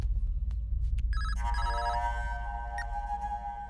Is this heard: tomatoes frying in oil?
no